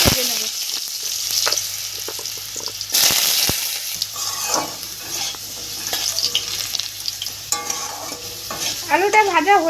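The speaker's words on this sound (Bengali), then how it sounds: "এবার আমি আলুটা ভেজে নেব।" Potato pieces fry in hot mustard oil in a kadai while being stirred, giving a loud steady sizzle broken by scraping clatters of the spatula, with bubbling crackles near the end.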